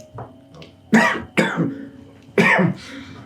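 Three heavy, close coughs with short gaps between them, the first two in quick succession and the third after a pause, with faint breathing in between.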